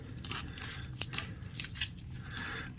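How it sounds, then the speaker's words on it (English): Flat grind knife slicing through material the way celery is cut, a series of short crisp cutting and crunching strokes at close range, with no talk. "let's just switch and cut it like celery"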